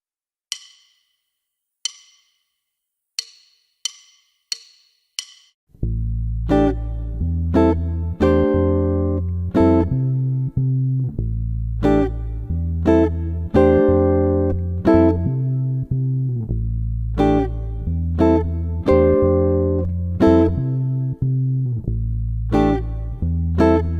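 Strummed jazz guitar pentatonic chords, C6/9 among them, ring out over a steady backing groove with bass, after a few sharp count-in clicks; rhythmic and loud, no talking.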